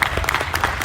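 Festival audience at a classic film festival applauding, a dense, steady wash of many hands clapping nearby without a break.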